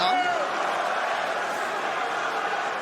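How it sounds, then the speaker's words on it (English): A UFC arena crowd cheering for the American fighter Michael Chandler in his rematch with Charles Oliveira, a steady, broad roar of many voices that holds under an announcer's talk throughout. "Crowd getting behind the American early on."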